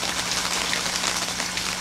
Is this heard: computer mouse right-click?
no